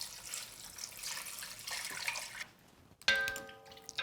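Running water gushes steadily into a cooking pot, then cuts off, followed by a clear metallic ding ringing out nearby.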